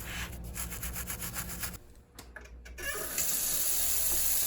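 A brush scrubs resin off a saw blade in quick repeated rubbing strokes, close and fairly loud, pausing briefly midway before the scrubbing resumes.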